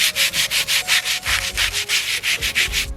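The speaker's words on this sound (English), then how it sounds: "So this is sandpaper. I'm going to sand this piece of wood" Sandpaper rubs back and forth across wood in steady, rhythmic strokes, about five per second, close and loud with no voices.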